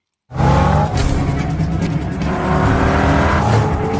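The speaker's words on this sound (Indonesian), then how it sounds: "Brian mencuri sebuah mobil dan mengejar kapal yang membawa Kim." A stolen car speeding through a chase scene in the film Taken: a sudden loud burst of engine roar with long screeching tire skids that continues steadily, close and dominant, no voices.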